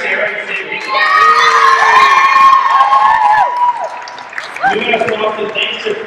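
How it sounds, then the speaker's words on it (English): A crowd in a gym at a college volleyball senior day cheers loudly, with high shouts and whoops over some clapping, swelling and then dipping before more yells break out. "Ladies and gentlemen, how about one more round of applause for Bianca, Sarah, and Sydney."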